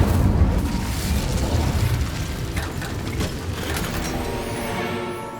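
An Incendio fire spell cast in Hogwarts Legacy: a sustained, loud roaring burst of flame with crackling bursts and low rumble that holds steady through the whole stretch, no speech.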